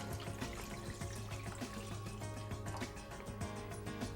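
Mushroom broth poured into a cooking dish, a soft continuous liquid trickle and splash running quietly for several seconds with no talking over it.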